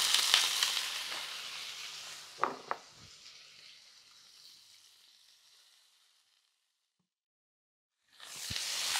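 Minced meat and courgettes sizzle steadily in a hot pan with a few clinks of stirring, the frying fading out before a brief silence and then returning loudly.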